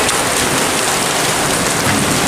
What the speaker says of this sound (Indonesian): Mandi hujan seru banget